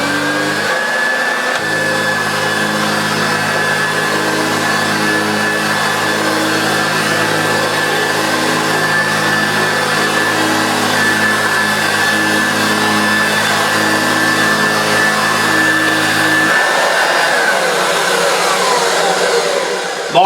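A refurbished Hoover Junior U1412 vacuum cleaner runs with a steady, loud motor whine and low hum that holds for about fifteen seconds before the tone shifts near the end.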